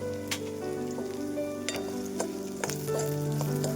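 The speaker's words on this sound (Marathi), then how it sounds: "आता व्यवस्थित भाजून घ्यायचं चांगला लाल कलर येईपर्यंत भाजायचं" Onion and coconut roast and sizzle in a pan for a spicy village-style brinjal curry, with a steady close frying hiss and occasional stirring scrapes, no talk.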